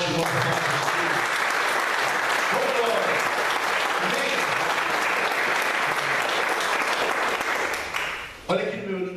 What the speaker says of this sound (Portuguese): Vamos aplaudir bem forte o nome de Jesus.